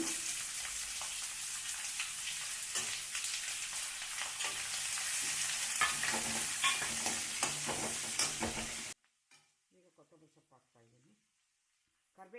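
Thick chopped onions sizzle and crackle in a hot pan while a spoon stirs and scrapes them, steady frying with intermittent clinks; the frying cuts off abruptly near the end, leaving a few seconds of quiet speech.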